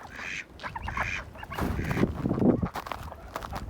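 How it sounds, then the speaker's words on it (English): Ducks on a snowy farm give a series of loud, close quacks and honking calls in short bursts, with no talk. "Ducks do not seem to mind the weather at all."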